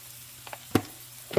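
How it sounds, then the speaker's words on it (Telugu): Fenugreek leaves (methi) fry in a pan over a low flame, giving soft bursts of sizzle with a couple of sharper scraping clatters, close and fairly quiet, with no talk. "ఇప్పుడు మెంతి కూర ఫ్రై అయిందండి, కానీ స్టవ్ సిమ్లో పెట్టుకొని ఫ్రై చేయాలి"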